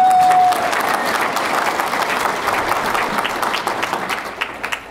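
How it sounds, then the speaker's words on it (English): Sustained applause from a crowd at a Rotary Veterans Day gathering, a steady dense wash of clapping that lasts throughout and thins slightly toward the end, with a brief tone at the start. "So Larry's family, round of applause."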